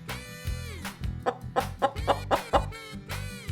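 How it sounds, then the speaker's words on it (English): A chicken clucks in a rapid run of short, close, rhythmic clucks over soft background music. "Chicken. This is a chicken."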